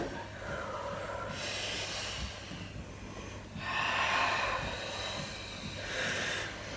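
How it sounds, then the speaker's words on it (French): Deep breaths drawn in and let out slowly during a guided exercise session, three broad airy swells spaced a couple of seconds apart over a steady low hum, close and moderately loud. "Inspire, expire."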